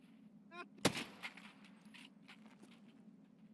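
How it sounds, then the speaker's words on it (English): Distant gunfire from Escape from Tarkov, with a sharp crack near the start followed by a few fainter, scattered far-off shots over quiet ambience. "all that shooting was down there"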